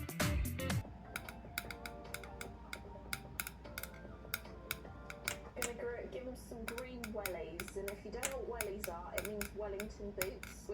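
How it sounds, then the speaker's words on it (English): A paintbrush handle is tapped against a surface like a drum solo during rock painting, making a quick run of light, irregular ticks and clicks over about ten seconds while a voice talks underneath. "Not sure why I decided to break out in a drum solo with my paintbrush"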